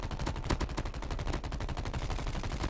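Rapid automatic gunfire in a Call of Duty Mobile battle royale match, dense bursts of shots cracking in quick succession, loud and close for the whole stretch.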